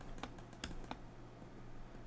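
A few sharp computer mouse clicks sound close together in the first second, each crisp and short, over a steady low hum with no voices.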